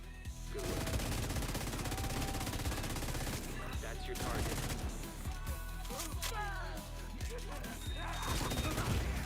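Rapid LMG gunfire rattles through a firefight in the video game The Division 2, loud and nearly continuous bursts layered with other shots, impacts and crashes over the full stretch.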